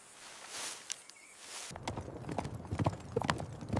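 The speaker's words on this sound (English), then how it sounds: "Horses' hooves strike the ground." Horse hooves clip-clop in a quick, uneven rhythm, close and fairly loud, after a short stretch of quiet rustling.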